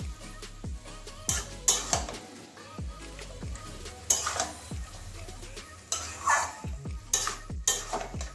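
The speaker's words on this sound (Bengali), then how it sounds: "ভালো করে মাছের মাথা একটু কষিয়ে নেবো আবার।" A whole katla fish head frying in a pan for a jackfruit curry, with a soft sizzle under repeated sharp spatula scrapes and clanks against the pan at an uneven rhythm.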